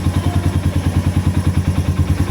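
A Rusi RKS 150 motorcycle engine idles steadily up close, its low, even putter pulsing in a fast regular rhythm without a break and with no talking over it.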